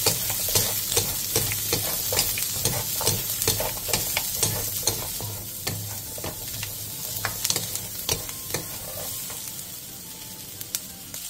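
Vegetables and broccoli tossed with oyster sauce and minced garlic in a hot pan, with steady loud sizzling broken by frequent sharp scraping strokes of a utensil throughout.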